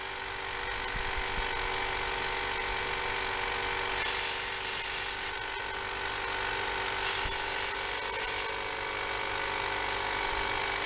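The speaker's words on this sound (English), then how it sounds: "I'm going to come up here into the 3 spark plug areas and just blow a little air around the spark plugs" Compressed air is blown around the spark plug wells of a 2005 Explorer engine. Two short hissing blasts stand out against a steady mechanical hum, and no one speaks.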